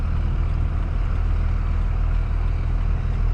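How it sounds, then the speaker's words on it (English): A second-generation Cummins 24-valve diesel truck with a 47RE automatic transmission and a loud exhaust drives and downshifts, producing a steady, heavy, close-up engine and exhaust rumble throughout. "So far it seems to be downshifting just fine."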